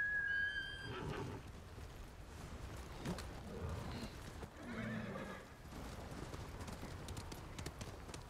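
A horse whinnies near the start in the video game Ghost of Tsushima, followed by clip-clopping hooves and rustling game ambience that continues steadily.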